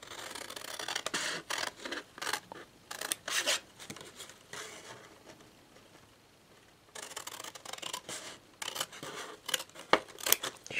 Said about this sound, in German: So, und die Dreiecke, die schneiden wir auch aus.